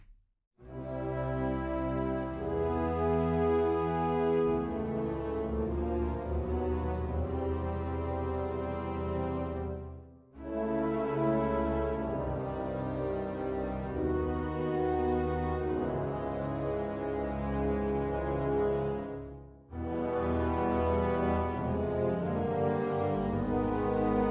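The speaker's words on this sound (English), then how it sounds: "So the low chords sound like this." Deep sustained orchestral low chords from a Cinesamples sample library swell and hold in three long phrases, separated by brief pauses, rich and full with no voices.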